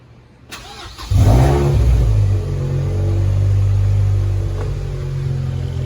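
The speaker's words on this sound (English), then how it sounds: "So I'm going to go ahead and fire the car up." A Mazda Miata NC engine cranks and catches, revs briefly, then settles into a steady, loud idle rumble close by.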